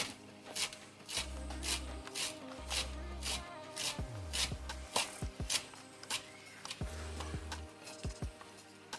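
Knife chopping parsley on a cutting board, quick sharp taps in short irregular runs, fairly faint, with background music.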